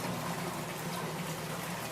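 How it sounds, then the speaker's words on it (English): Sump pumps drain seeping water inside a show cave, giving a steady close-up rush and gurgle of pumped liquid over a low hum, constant throughout with no voices. "that's why we got to keep the sump pumps going"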